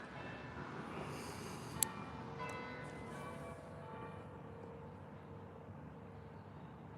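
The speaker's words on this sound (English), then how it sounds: "That is the 1/2 past the hour chime from the church bell." A church bell strikes the half-hour chime on a morning stroll with a dog, a faint distant tone rising once above steady outdoor background noise.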